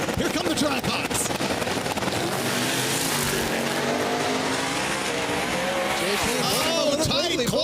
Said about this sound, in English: Here come the Trackhawks.